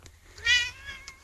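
A cat gives a single short meow, fairly close and soft, rising and falling in pitch against a quiet room.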